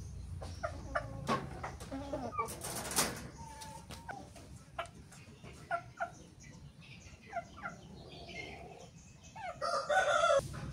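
A recovering rooster crows and clucks near a pen, with scattered short calls and rustles that end in a louder, raspy crow.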